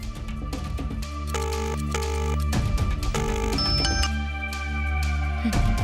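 A phone rings through a loudspeaker in a repeating pattern of bright electronic tones, several bursts over a steady low hum of background music.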